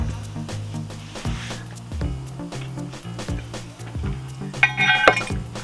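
Metal washers and cups from a car subframe bush assembly clink while being handled in a workshop, with light scattered taps and rattles over a low steady hum, ending in a brighter metallic clink near the end.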